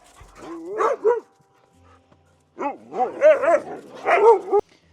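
Dogs at a volunteer job in Sweden barking loudly and close by in two clusters of yelping, whining barks with a short quiet gap between them, and no talking.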